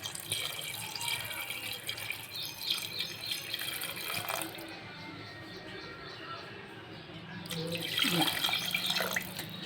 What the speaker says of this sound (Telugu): నేనైతే 4 గ్లాసెస్ వాటర్ పోస్తున్నాను